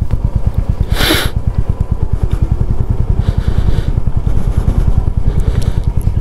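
A Royal Enfield Meteor 350 motorcycle descends a steep, winding hill road in gear, giving a close, steady single-cylinder thumping beat with a brief rush of wind noise near the start.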